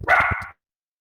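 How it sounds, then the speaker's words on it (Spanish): A dog lets out a single loud, close bark indoors, lasting about half a second before everything falls silent. "Perdón por mi perro, permítanme."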